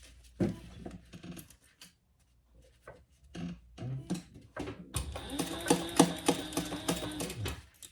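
A sewing machine stitching a seam starts with scattered clicks and handling noises, then runs in a faint, continuous rattling burst for the last few seconds.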